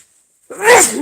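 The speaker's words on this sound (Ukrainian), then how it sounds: "Ой, так смачно чихнув." A person lets out one sudden, loud, close sneeze, a sharp burst of about half a second that follows near-silence, with no other voices around it.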